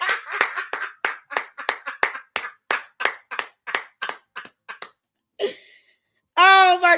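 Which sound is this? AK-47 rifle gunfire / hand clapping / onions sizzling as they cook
hand clapping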